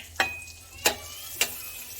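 Prawns sautéing in a pan for buttered garlic prawn: three sharp spatula scrapes or tosses at even intervals over a faint background sizzle, no voices.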